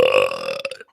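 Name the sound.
belch, burping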